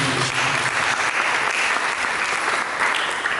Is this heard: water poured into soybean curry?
no